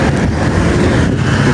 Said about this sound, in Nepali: कस्तो चिसो हावा चलेको हो कस्तो चिसो हावा चलेको